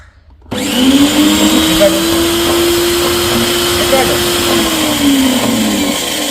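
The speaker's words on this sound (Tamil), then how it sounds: "இது ஃப்ரீ அதாச்சும் மோட்டர் வேலை செய்யலை தனியாக வீல் மட்டும் ஃப்ரீ ஆச்சுது" A washing machine drum whirs up after a brief quiet start and holds a steady, loud humming drone with faint rattling, easing slightly in pitch toward the end.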